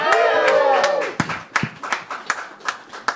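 Audience at a comedy open mic gives scattered, uneven claps from a modest crowd, starting just after a host's voice trails off and continuing as sparse individual hand claps rather than full applause.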